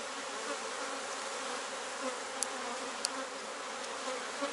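Honeybees buzz around a hive frame during a colony inspection, forming a dense, steady hum that fills the space, with a few faint clicks and no talking.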